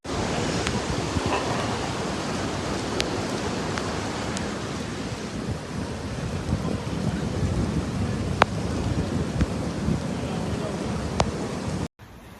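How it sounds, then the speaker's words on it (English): A steady roar of heavy rain from a storm in Girona, Catalonia, runs unbroken with faint sharp cracks scattered through it, then cuts off abruptly near the end. "Storm Harry's passage through Catalonia has left thousands of liters of rain in its wake"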